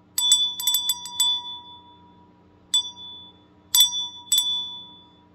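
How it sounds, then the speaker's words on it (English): A hand bell is rung in quick clusters of bright metallic strikes, with a few long ringing tones left to decay in between pauses, loud and close in a quiet room with no talking. "I've been doing this bell so long, I'm pretty good at it."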